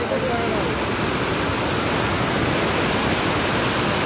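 A waterfall beside a canal in Joy Pur Forest, Bankura, roars as a dense, constant broadband rush of falling water, loud and close, with no pauses throughout.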